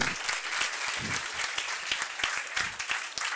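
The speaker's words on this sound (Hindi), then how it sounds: "तो अजय सर के लिए एक बार जोरदार तालियां।" Audience at a Haryana gurukul seminar claps steadily for a teacher, a dense patter of hands with sharper individual claps standing out, moderately loud and sustained without pause.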